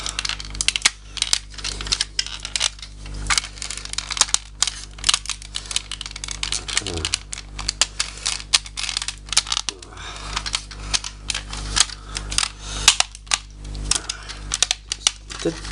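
Plastic parts of a Mei Duo Duo Mimi Agent X-Kuanglei toy robot handled and clicked together up close, with many sharp ticks and snaps in irregular bursts, briefly broken by a scraping rattle and faint talk.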